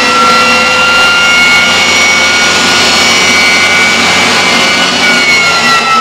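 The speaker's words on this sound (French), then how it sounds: "quand ça démarre des moteurs de réaction" Jet engine of a dragster starting up inside a hangar, a loud continuous roaring whine with rising tonal whistles, steady and close throughout.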